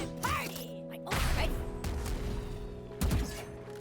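Raze's satchel charge in Valorant blasts for a jump, with a heavy thump around one second and a second burst near three seconds, set against game ambience and a low steady hum.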